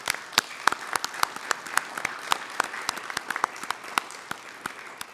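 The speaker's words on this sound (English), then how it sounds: "I want to give a round of applause to all of that." A small group at a council meeting claps in steady, distinct slaps for several seconds, fairly close and moderately loud, with no talk over it.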